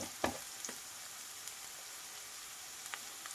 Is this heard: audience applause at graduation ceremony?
no